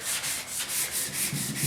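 Sandpaper rubbing lightly over a 1972 Ford 4x4 pickup tailgate during paint prep, a steady close scratchy hiss in repeated short back-and-forth strokes, roughly eight passes with no voices.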